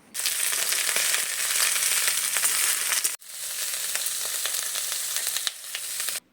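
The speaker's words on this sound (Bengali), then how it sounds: "কড়াইতে সামান্য তেল দিয়ে আদা রসুনের কুচি আর লঙ্কা চেরা দিয়ে দেওয়া হলো এবার এর ওপর ক্যাপসিকাম আর পেঁয়াজ কুচনো দিয়ে হালকাভাবে কিছুক্ষণ ভেজে নিতে হবে" Capsicum and onion fry with chopped ginger, garlic and slit chilli in a little oil in a wok, giving a loud, dense, continuous sizzle up close that breaks off once for a moment before resuming.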